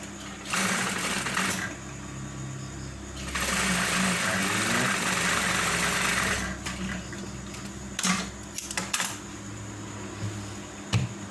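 A sewing machine stitches a slanted trouser pocket in close, steady whirring bursts of a few seconds each, separated by pauses with handling sounds and a few sharp clicks.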